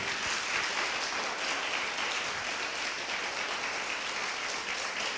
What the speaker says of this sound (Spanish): den un aplauso al Rey, por favor